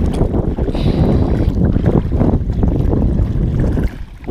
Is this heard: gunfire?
no